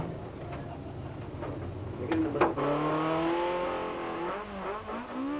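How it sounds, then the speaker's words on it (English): Sasol Ford Laser rally car on a forest stage with gearbox problems, its engine rising and falling as it accelerates through the gears before climbing into a sustained, strained rev, heard at moderate distance. "Sarel powers the Sasol Ford Laser into the last of the forest stages"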